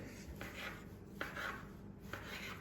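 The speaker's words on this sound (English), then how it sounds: "then you cut some tiny balls with a knife" A knife slices a rolled log of sweet potato dough into small balls on a work surface, with a few soft, muffled cuts spaced across a quiet background.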